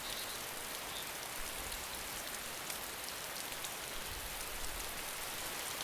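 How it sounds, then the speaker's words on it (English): Steady rain in a zombie survival video game patters evenly on a surface, a soft continuous hiss with no voices. "It's raining a bit."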